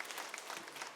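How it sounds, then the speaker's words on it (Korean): A church congregation claps in welcome for an elder coming forward during a worship service, a brief, dense patter of many hands at moderate distance. "우리 장로님 나오실 때 박수로 한번 환영하면 좋겠습니다"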